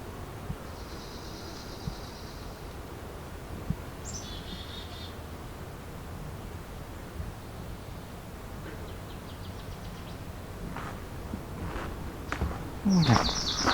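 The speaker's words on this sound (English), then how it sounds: "That was a good swamp sparrow." A swamp sparrow sings in a swamp at the summer solstice, with thin, high trills rising over steady background hiss and a louder, closer burst of song near the end.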